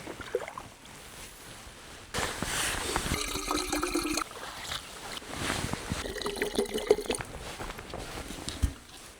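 Water being filtered beside a remote lake in Lapland: irregular bursts of splashing, trickling and pouring, moderately close, with quieter gaps between them and no talk.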